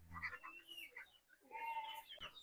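Native country chickens cluck and a rooster calls nearby on a farm in short bursts, with a faint voice in the background.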